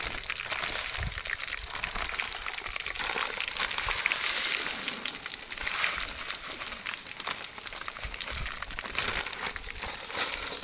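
Mustard seeds, cumin, curry leaves, chana dal and urad dal frying in hot oil for a Kannada heralikayi chitranna, a steady dense crackling sizzle with soft popping, close and continuous without talk.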